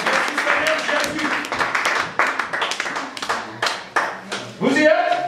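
A church congregation clapping together during a French-language sermon, irregular hand claps and acclamation under a preacher's voice, loud and close, with a swell of cheering near the end.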